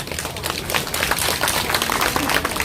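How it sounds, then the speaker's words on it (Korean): An audience applauds at the award ceremony of the 27th Hongcheon sticky corn festival. The clapping is dense and continuous, close and loud, filling the whole stretch with no talk. "여러분 박수 부탁드리겠습니다"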